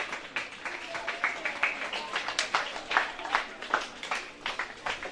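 An indoor crowd applauds the new school muadhin at a school swearing-in and handover ceremony, a moderate stretch of uneven clapping that carries on steadily for several seconds.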